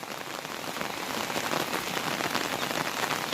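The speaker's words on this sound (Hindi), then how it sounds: "तो लग चुकी है झमाझम बारिश" Heavy rain pours steadily outdoors, a dense constant hiss of drops hitting surfaces that builds slightly and stays loud throughout, with no voices.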